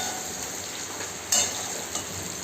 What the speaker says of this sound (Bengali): পটল ভাজা একই তেলের মধ্যে আমি গোটা জিরে আর গোটা শুকনো লঙ্কা দিয়ে দিলাম।